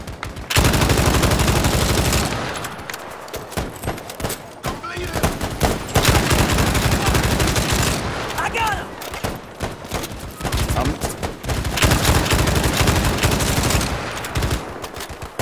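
Heavy, sustained automatic gunfire and explosions from a Battlefield 5 Pacific Front battle, loud and dense with brief lulls, while players talk over the noise.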